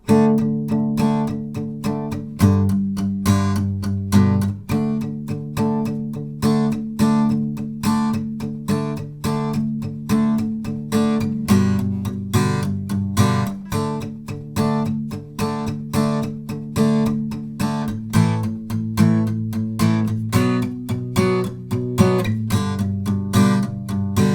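Acoustic-style guitar strums the easy verse chords of a song, a steady rhythmic pattern of strums with chord changes every couple of seconds, played alone and close.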